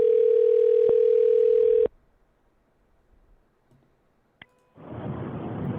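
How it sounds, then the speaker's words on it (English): A steady telephone dial tone sounds loudly while a call is placed, cut by a few dialing clicks, then a pause of near silence before a rushing line noise begins. "Let's try and call him back."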